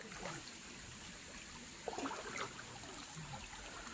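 A small forest stream runs on a flooded riverside after recent floods, giving a faint, steady trickling and babbling, with a few soft splashes and a low background rumble.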